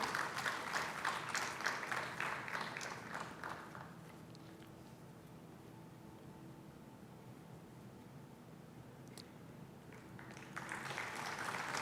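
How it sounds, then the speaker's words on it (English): Brief applause at a young alumni excellence awards ceremony for a medallion recipient, a dense patter of clapping that dies away within a few seconds, then quiet room hum before clapping swells again near the end. "A huge round of applause for Sarthak Jain."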